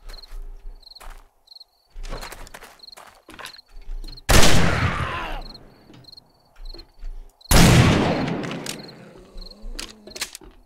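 Two loud, booming shotgun-like gunshots from the game 7 Days to Die ring out a few seconds apart, each with a long decaying tail, between quieter clicks and small tapping sounds.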